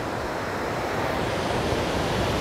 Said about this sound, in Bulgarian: гледаме морето, и то не е случайно не кое да е море, а Черно море